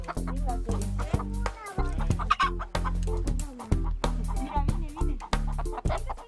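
Hens in an ecovillage henhouse clucking busily up close, a dense run of overlapping squawks and cackles in quick irregular bursts, with no talking.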